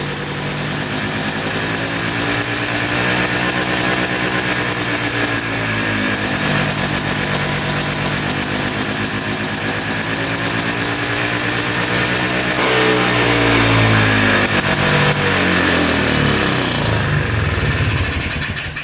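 An ATV engine with a leaking carburetor boot runs for a long stretch, idling with a steady throbbing hum and wavering pitch, then revving up briefly before settling again.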